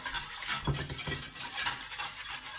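Cornstarch mixture stirred in a bowl for a brioche filling, a close, busy run of scraping and clinking from a utensil against the bowl, with no talking.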